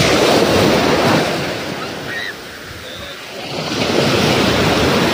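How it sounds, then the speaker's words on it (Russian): Sea waves surging and breaking on a beach, loud rushing surf that fades into a quieter lull in the middle before another wave crashes in near the microphone. "Ой, какая волна!"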